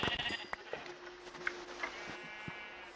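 A Minecraft sheep gives a few short, quiet bleats in quick succession, close by, with faint game sounds around them.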